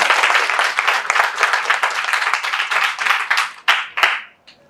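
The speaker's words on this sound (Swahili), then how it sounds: "Piga makofi." An audience at a Tanzanian political gathering claps in a loud, fast burst that thins out into a few scattered claps before stopping.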